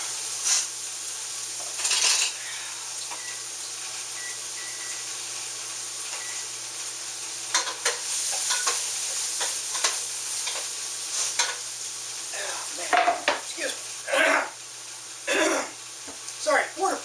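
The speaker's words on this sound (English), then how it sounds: "Throw this in the pot and let's saute for 3 or 5 minutes." Vegetables sauté in a soup pot for cabbage soup, a soft steady sizzle with intermittent stirring scrapes and clatter, while someone coughs and clears their throat at times.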